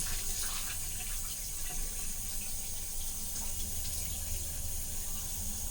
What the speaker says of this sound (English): I thought he was pouring stuff out the tub